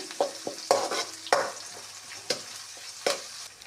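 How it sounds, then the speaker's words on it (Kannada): Chopped vegetables for gourd sambar fry in hot oil, with a steady soft sizzle broken by about six sharp stirring scrapes in the pan, close and moderately loud, no voices. "ಅವನ್ನೆಲ್ಲ ಹಾಕಿ ಅವನ್ನೆಲ್ಲ ಚೆನ್ನಾಗಿ ಕೆಂಪಾಗೋ ತನಕ ಎಣ್ಣೆಯಲ್ಲಿ ಫ್ರೈ ಮಾಡಿಕೊಳ್ಳಿರಿ"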